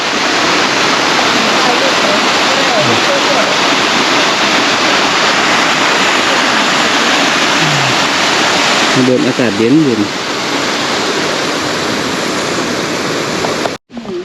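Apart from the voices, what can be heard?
Tad Maleud waterfall flowing in Laos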